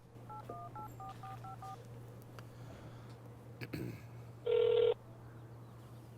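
A quick run of touch-tone telephone dialing beeps, then a pause and one longer, louder tone, over a low steady hum.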